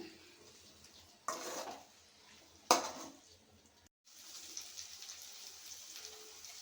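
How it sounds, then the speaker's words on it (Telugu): Chopped tomatoes stirred into a fenugreek and moong dal curry, with two sharp clatters of a spoon against the pan among soft scraping and a low background hiss. "టమాటాలను అయితే వేసుకుంటున్నాను. దీన్ని ఈవెన్గా కలుపుకుందాము."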